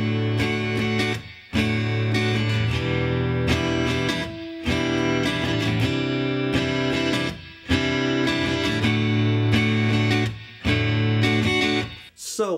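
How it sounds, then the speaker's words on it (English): Acoustic guitar strumming open chords with a chucking technique, the ringing strums cut by sharp percussive muted stops in a steady repeating rhythm, close and loud with no talking. "on how to do the chucking, especially with open chords, a little different than bar chords"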